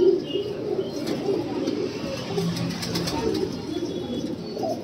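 Pigeons coo in low, murmuring rolls amid a steady noisy background, the calls overlapping continuously at moderate volume.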